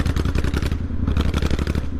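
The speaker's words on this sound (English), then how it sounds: "it's got this like chuggy rhythmic scrambler sort of noise" A motorcycle engine chugs at low speed in too high a gear during a ride through London, giving a rough, rhythmic, pulsing thrum that is loud and close with wind noise and no speech.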